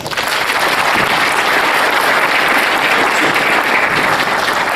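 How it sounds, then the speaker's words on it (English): Loud, dense audience applause for guests at a CEO forum, a continuous roar of clapping from a large crowd that stays at full strength throughout. "Let's clap for our guests."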